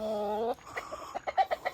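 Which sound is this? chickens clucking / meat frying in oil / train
chickens clucking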